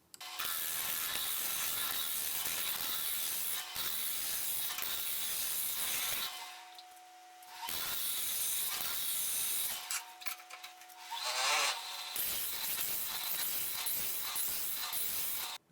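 A wood lathe turns down a wormholed wooden blank, sped up, giving a loud, dense rasping and chattering scrape broken by brief pauses where a steady motor hum is heard alone.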